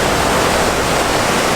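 A river waterfall roars in a steady, dense rush of falling water, loud and unbroken, with no other sounds.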